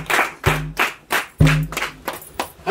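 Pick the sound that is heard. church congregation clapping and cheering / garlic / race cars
church congregation clapping and cheering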